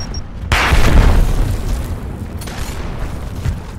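A grenade explosion in the Gears of War video game goes off with a sudden loud, close boom, followed by a long rumbling decay and scattered debris.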